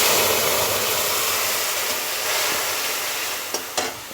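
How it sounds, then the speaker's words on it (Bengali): A hot pan hisses loudly as a water-mixed paste of cumin, coriander, red chilli and turmeric powders goes in for a fish curry with new potatoes, a broad steamy sizzle easing slightly, with a couple of sharp clicks near the end. "জিরে পাউডার ধনে পাউডার লাল লঙ্কা পাউডার হলদি পাউডার আমি জলে গুলে রেখেছি জলে এটা আমি দিয়ে দেব"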